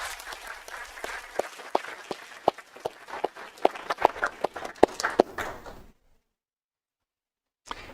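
Audience applause for a record-setting back-to-back high school football team at a county board of supervisors meeting, a dense patter of clapping that runs several seconds before cutting off abruptly into silence.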